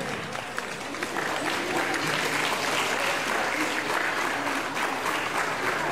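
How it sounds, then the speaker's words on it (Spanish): Guests at a traditional wedding in San Felipe Orizatlán, Hidalgo, Mexico, clap loudly and continuously, a dense sustained wash of applause from a crowd. "¡Un aplauso fuerte!"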